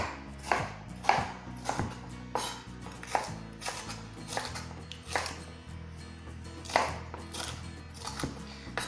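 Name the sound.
roughly chopping a pepper on a chopping board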